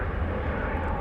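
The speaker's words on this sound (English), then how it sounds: "Flight 1339, a 737-800, on its way to the Valley of the Sun." A Boeing 737-800 jet on flight 1339 at Dallas Fort Worth Airport gives off a steady, fairly loud broadband engine roar with no voices, held evenly through a brief moment.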